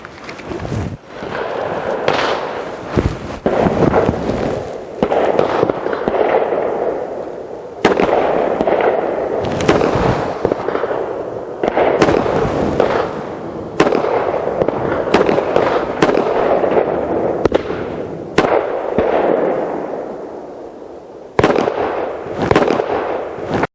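A rapid series of sharp, loud CZ pistol shots in 9mm and .45 ACP with crackling tails, fired irregularly over and over, close by with no talking.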